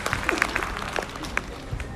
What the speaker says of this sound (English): Please, a round of applause for them to encourage them.